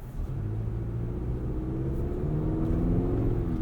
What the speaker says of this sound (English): A little bit of turbo whistle on light throttle.